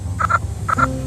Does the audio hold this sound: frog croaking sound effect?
yes